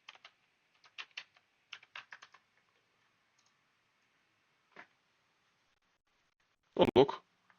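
Computer keyboard keys tapped in quick short clusters to enter a number, close and crisp in an otherwise quiet room, followed by a lone keystroke and then a brief spoken exclamation.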